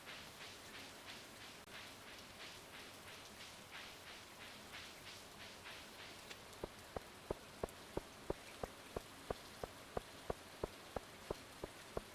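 Steady, soft rain falls at night in Stardew Valley, a faint hiss with dripping patter, while a sharp ticking settles into a regular rhythm partway through.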